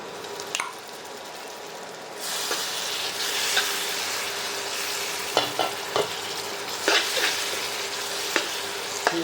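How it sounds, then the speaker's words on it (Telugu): Gongura leaves frying in oil in a pan, a steady broad sizzle that swells after a brief quiet start, broken by occasional stirring knocks and scrapes, close and alone without talk. "ఇలా గోంగూర మనకి ఆయిల్లోనే అలా ఫ్రై అయిపోయి"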